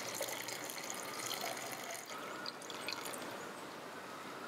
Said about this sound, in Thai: ดิฉันเทน้ำลงไปในแก้วที่มีสารตัวนี